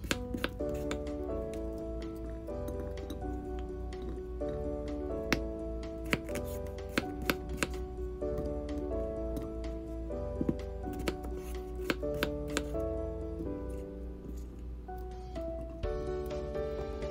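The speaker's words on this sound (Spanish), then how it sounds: "Después las cortamos en trocitos pequeños para que sea más rápido de cocer." Potatoes are chopped into small pieces with a knife, giving a steady series of light, close taps on a cutting board over soft background music.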